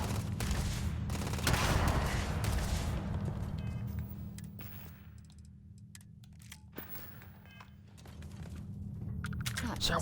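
Gunfire and a grenade blast rumble in the video game Starfield, a dense burst of shots and a booming explosion at close range, with a voice talking over the combat.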